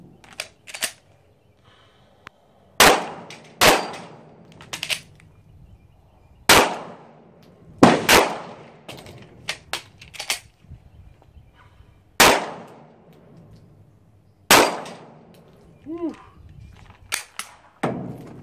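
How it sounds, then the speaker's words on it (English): Live-fire pistol practice at a shooting range, sharp gunshots cracking in pairs and singles with irregular gaps, loud and close, with a brief voice in between. "two shots strong, two shots freestyle, two shots strong, two shots weak."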